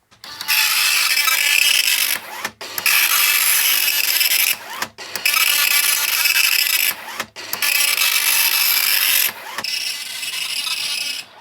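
A Commodore MPS-801 dot matrix printer prints in repeated passes, each a loud, buzzy rasping burst of a couple of seconds separated by brief clicks and pauses, five passes in a row.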